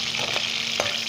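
Cumin seeds crackle and sizzle in hot oil with green chillies, a steady close frying hiss with a couple of sharp pops, and no talking.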